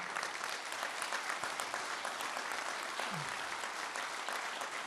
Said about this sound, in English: I want to give Jean a round of applause as well